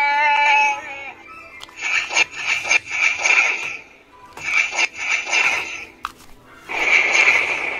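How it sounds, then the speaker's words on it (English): Chewbacca action figure toy playing its electronic bowcaster blaster effect, a string of harsh crackling zaps in three bursts broken by short gaps, with a brief growl-like tone at the start; no talking. "let's hear the bowcaster"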